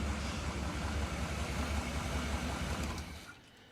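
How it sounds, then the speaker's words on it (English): An old vehicle engine idling after starting up: a steady, rough low rumble close by that holds for about three seconds, then drops off sharply as it shuts down. "It'll fire up, go right into gear, just like a champ"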